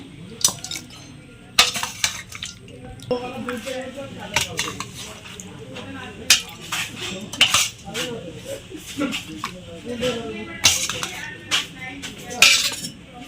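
Cooked goat meat being dished out of a pot, with metal spoon scrapes, clinks and knocks against the pot and plates coming in irregular bursts, and a voice speaking now and then.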